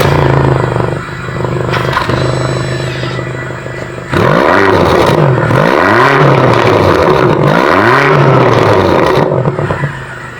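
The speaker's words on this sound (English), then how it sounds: "I do want to show you guys the exhaust." A BMW XM with its S68 engine revs hard through the exhaust, with three loud rising-and-falling blips after a quieter idling stretch, close and alone with no talk.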